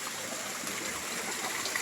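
Water pumped into a fish pond, flowing as a steady, faint trickling stream heard briefly with no talk.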